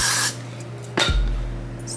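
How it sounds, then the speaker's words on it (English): Two quick spritzes from a spray bottle onto the ends of braided hair during a sleek feed-in ponytail, each a short, close hiss separated by a brief pause. "you want to spray the ends so they don't stick out"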